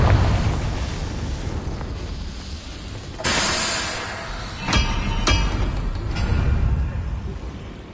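A Confringo blasting spell goes off in Hogwarts Legacy, a broad roaring burst around three seconds followed by two sharper cracking blasts and a fainter one, all over steady rumbling game ambience.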